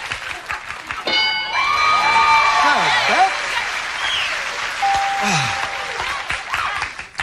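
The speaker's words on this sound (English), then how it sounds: "Give me a little clap." Studio audience on a 1994 Family Feud game show breaking into applause and cheering, a loud sustained burst with a host's voice and contestant chatter sounding over it.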